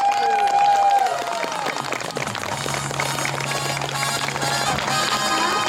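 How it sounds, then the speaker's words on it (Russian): An outdoor village-day crowd applauds a local song ensemble with a dense, sustained wash of clapping that holds steady and loud over music for several seconds. "Подарим им бурные аплодисменты,"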